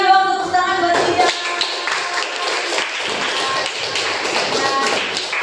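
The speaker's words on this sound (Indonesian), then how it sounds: "Berikan dong tepuk tangan buat Zidan." A classroom of students claps for a classmate, a dense, steady patter of many hands lasting several seconds, with a brief voice and thumps at the start.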